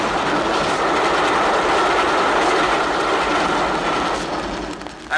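A cartoon train rumbles steadily over a bridge, its wheels clattering loud and close throughout.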